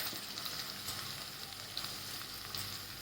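Spice masala with yellow spice and Kashmiri red chilli sizzles steadily in a spoonful of hot oil while being stirred, a soft continuous frying crackle with faint scraping, heard alone at low volume.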